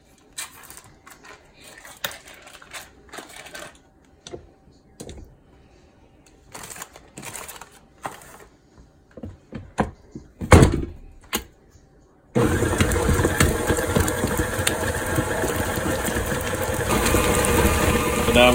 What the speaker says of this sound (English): We're first gonna beat up the butter and the cream cheese.